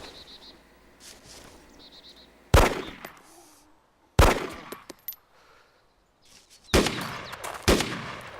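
Gunfire in an airfield firefight in DayZ Mod, sharp loud shots cracking out singly and in short bursts, with quiet insect-like ambience between them.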